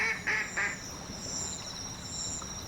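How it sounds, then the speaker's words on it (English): In a tiny video game, a duck gives three quick quacks in a row, then falls quiet while gentle ambient music and hiss carry on. "Hi, duck."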